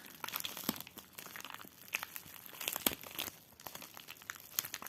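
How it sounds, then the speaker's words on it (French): A plastic pouch holding a diamond painting canvas crinkles and crackles up close as it is opened, a quiet flurry of irregular rustles and sharper snaps. "je suis déjà en train d'ouvrir la pochette"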